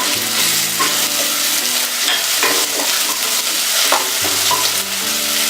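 Garlic paste, curry leaves and spices fry in hot oil with a loud, close crackling sizzle, broken by short clinks of stirring against the pan.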